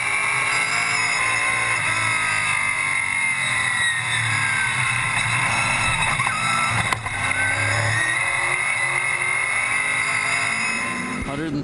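ARCA/CRA Super Series stock cars race around the oval at Watermelon Capital Speedway during the 2013 Speedfest 200, engines roaring and droning in a steady, loud blur while a commentator talks over them.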